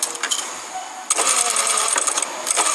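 A sewing machine runs in short bursts while stitching fabric, including a quick reverse stitch, its motor whirring loudly and close up with brief pauses between runs.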